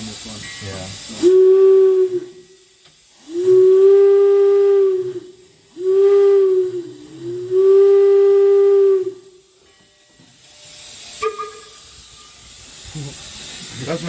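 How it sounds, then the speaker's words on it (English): The steam whistle of the Virginia & Truckee No. 22 "Inyo" locomotive sounds in four loud, close blasts of varying length, with hissing steam between them and brief voices around the blasts. "I like the whistle on this one."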